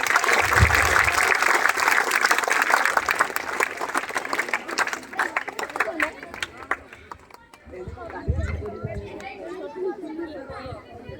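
Audience applause at a government high school's annual function in Odisha, dense clapping from a crowd that fades after several seconds into scattered claps and murmuring chatter.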